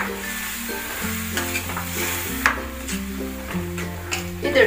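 Kabuli chana curry cooks in masala in a pan, a close steady sizzle with scraping stirs and occasional clinks from a utensil, and no talk over it.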